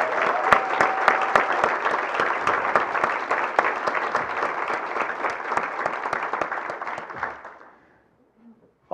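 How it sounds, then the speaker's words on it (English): Audience at a community event applauds a parade producer, dense sustained clapping from many hands that carries steadily for about seven seconds, then trails off quickly into near silence. "Please join me and give me a round of applause."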